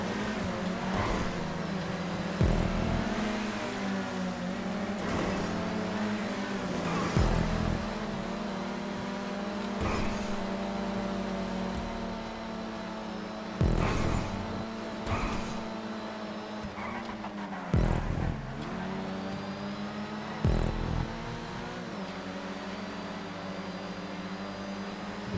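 Street-racing cars in GTA 5 Online, engines droning steadily at high revs with repeated sharp shifts and surges as vehicles accelerate, a continuous loud motor hum throughout.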